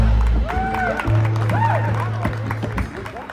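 Spectators clap and cheer at a bull riding tournament, moderate applause under a prominent voice speaking over a loudspeaker, with tonal sounds drifting in the background.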